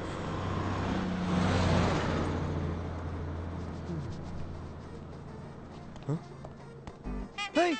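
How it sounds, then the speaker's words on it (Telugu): A bus pulls away at a hill-station stop, its engine rumble fading under a steady broadband road noise, followed by a few short sharp knocks and tonal sweeps near the end. "శుభ బస్ వెళ్ళిపోయింది"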